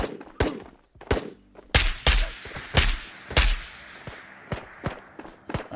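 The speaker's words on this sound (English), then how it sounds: "Looks like the bot is shooting at us." A bot fires at the player in the Ghosts of Tabor VR shooter, a series of sharp, loud gunshots spaced irregularly about half a second to a second apart, each with a short echoing tail.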